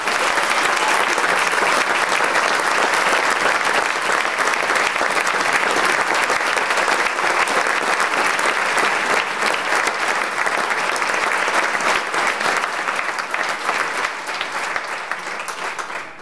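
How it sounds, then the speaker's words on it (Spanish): An audience at a Semana Santa programme presentation gives loud, sustained applause, a thick continuous roar of clapping that runs steadily before tapering slightly in the last few seconds. "otro fuerte aplauso para él"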